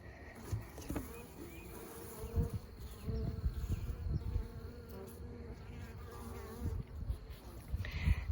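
Honey bees buzzing around a hive in the late afternoon with a light breeze, a steady close droning swarm hum that rises and falls, with occasional soft knocks and rustles.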